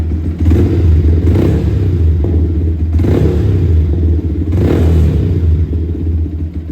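Yamaha R15 V3 motorcycle engine after throttle body cleaning, loud and close, idling with a steady throb and three short throttle blips roughly every one and a half seconds.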